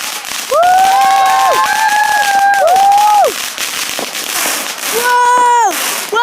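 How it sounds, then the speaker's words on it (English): At an outdoor fireworks display, whistling, warbling tones rise and fall over crackles and pops, with a crowd whooping and cheering loudly nearby. "Sorry if we're deafening you, but fireworks, loud, boing, bang."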